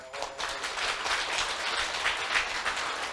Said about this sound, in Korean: 저 거사님 박수 한번 치세요.